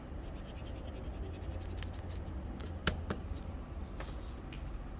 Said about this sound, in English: So I'll erase that.